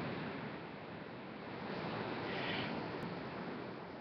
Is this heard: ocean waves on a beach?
yes